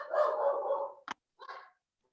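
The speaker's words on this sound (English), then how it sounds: "I don't think the dog liked that." A dog barks indoors: one drawn-out bark-whine, a sharp short yip, then a softer second bark, fairly faint and isolated with no talking.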